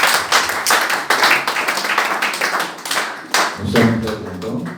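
A church congregation claps to acclaim the Lord, a dense, loud, close wash of many hands, with rhythmic accents and a low musical tone entering near the end.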